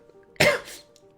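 A single sharp, close cough, loud and breathy, followed by a brief fading rasp against a quiet background.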